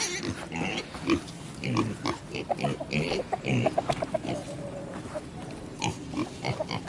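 Pigs on a Jersey cow farm grunt and squeal close by in an uneven stream, with chickens clucking in the mix and a person talking over the animals.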